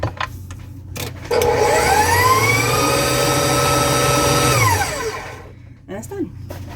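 A stand mixer with a paddle beats applesauce cookie dough, a loud steady motor whine that rises, holds for several seconds and then winds down, with a short scrape at the end.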